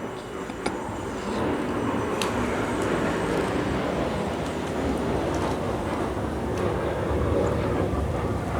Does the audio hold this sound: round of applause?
no